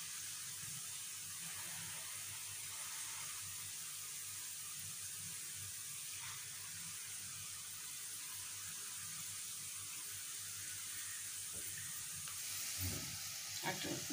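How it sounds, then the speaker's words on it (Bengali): Sliced onions fry in oil for beresta, a crispy garnish for hilsa fish pulao, with a steady, even sizzle throughout and soft scraping from continuous stirring, briefly louder near the end. "আমাদের পেঁয়াজ বেরেস্তা হতে চলেছে, আর পেঁয়াজ বেরেস্তার একটা নিয়ম হচ্ছে কি, এটাকে অনবরত নাড়তে হয়"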